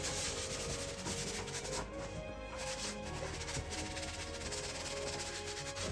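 Baked-on grease is scrubbed off an air fryer oven with a steady, soft, continuous rubbing that stays close and even throughout, with no talking.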